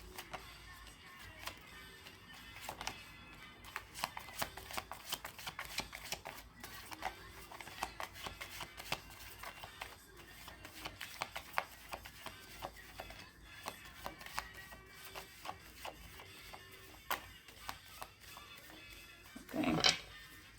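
Tarot cards being shuffled during a reading, a steady run of light, rapid papery ticks and flicks at close range, ending in a brief louder burst of riffling.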